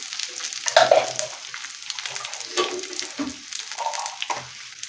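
Chilli thecha with cumin and salt being stirred in a hot pan, sizzling steadily with intermittent scraping clicks of the spoon, close and clear with no voices.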